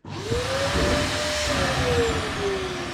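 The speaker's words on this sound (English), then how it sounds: "When I pull the vacuum, you'll see how much vacuum this small thing just pulls." A small homemade vacuum former pump for shaping plastic model aircraft parts pulls vacuum with a loud steady hiss and whine, pitch sliding slightly up then down, running continuously for about three seconds without speech.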